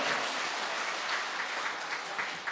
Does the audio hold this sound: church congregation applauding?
yes